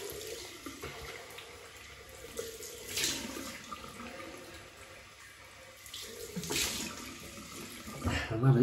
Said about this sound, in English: Give it the old cold water.